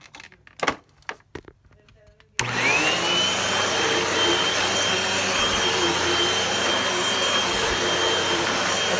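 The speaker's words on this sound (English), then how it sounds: "I'll be right back with the Hoover and see what it picks up" A Hoover Rewind upright vacuum cleaner set to its hard floor setting switches on with a sudden loud roar and keeps up a steady, close whine. A few knocks and handling sounds come before it starts.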